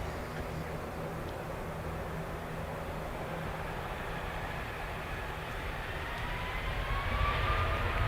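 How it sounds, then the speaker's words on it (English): An American Airlines airliner rolls along Dublin Airport's runway 10R, its engines giving a deep, steady, continuous rumble that swells slightly toward the end as it passes, with no voices over it. "Amazing sound from this aircraft. You can really feel it rumbling in your chest as it goes by."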